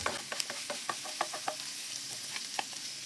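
Longganisa sausage fries in a pan with garlic and tomatoes, a soft sizzle under repeated clinks and scrapes of a utensil stirring, fairly quiet and close with no talking.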